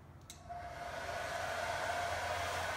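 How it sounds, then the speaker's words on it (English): A hair dryer powered by a solar hybrid inverter's emergency supply switches on after a brief click and blows with a steady whirring roar close by, holding constant. "this power that's coming out from this hair blow dryer right here is coming from the sun"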